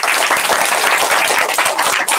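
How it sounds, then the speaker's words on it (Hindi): A church congregation in Varanasi claps loudly and continuously together during a worship service, a dense steady wash of applause filling the room with no voices on top. "एक बार जोर से ताली बजाइए।"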